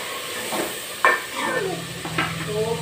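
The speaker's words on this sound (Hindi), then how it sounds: "तो प्याजों को और टमाटर मिर्च को अच्छी तरह गर्म कर लिया है।" Chopped tomatoes, green chilies and onions sizzling and being stirred in a hot pan for kadhi pakoda, a soft steady hiss with scraping stirs and a brief utensil clink.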